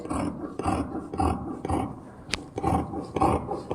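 Churidar fabric is cut at the shoulder with scissors, a close series of rhythmic crunchy snips, about seven in a row with short pauses between them.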